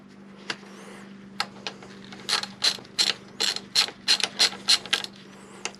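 A 14mm ratchet loosening bracket bolts on a Yamaha MT-01 motorcycle, a few scattered clicks followed by a quick, steady run of close metallic ratcheting over a faint electrical hum.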